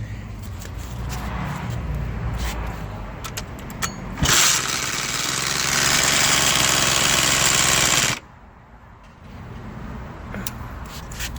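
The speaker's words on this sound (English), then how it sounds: "There is something in here that is rubbing, and you could have heard it from the last video" A rebuilt Eaton engine runs with an internal rubbing fault, a rough continuous mechanical drone that surges into a loud, harsh roar for several seconds before dropping back to a lower idle.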